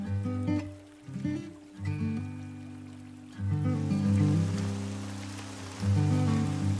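Rain falls steadily in Florida, a dense continuous patter that swells and eases in waves, heard alone at moderate level beneath a low background tone.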